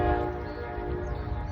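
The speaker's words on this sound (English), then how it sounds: "Train has arrived apparently." A train arrives with a steady horn blast, its held harmonic tone sounding over low rumbling at a moderate distance, with no one talking.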